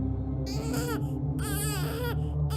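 A baby-like cry used as a sound effect, two loud wailing bursts over a steady low droning background, with no speech.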